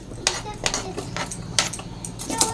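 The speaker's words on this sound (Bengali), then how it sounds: "এদিকে আমি পেঁয়াজ কলি কাটছি" A knife chopping spring onion stalks on a board in a home kitchen, with quick irregular crisp cuts and light clicks, close and moderately loud.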